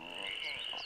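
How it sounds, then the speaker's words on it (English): A badger frog from Avatar: The Last Airbender gives a single sustained croak, a loud, buzzing, tonal call lasting under a second with no talk over it. "every time you hear a badger frog croak"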